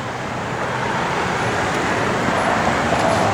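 A 1987 Buick Grand National with its engine running gives a steady, even broadband rumble and whoosh that holds at a constant level throughout, with no one talking.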